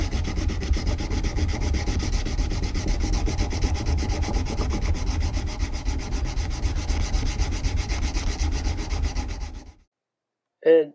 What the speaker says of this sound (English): if we just keep moving and sanding, it's going to take some time, some elbow grease